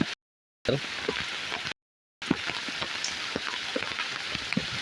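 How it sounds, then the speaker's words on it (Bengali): Heavy rain pours down in Shariatpur district, Bangladesh, a loud, steady downpour full of close drop impacts, broken by two short dropouts of silence. "সব বৃষ্টির পানি এত বৃষ্টি হইতেছে সৈরাদপুর জেলায় কয়েকদিন ধরে"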